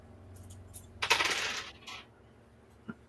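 A large handful of dice rolled during a tabletop roleplaying game session clatters in one dense burst lasting about a second, with a softer rattle trailing off and a single small click at the end.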